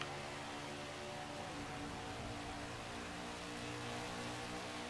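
Race car engine in NASCAR 21: Ignition revs steadily and accelerates, a continuous droning roar with harmonic whine holding loud and unbroken throughout, no voices.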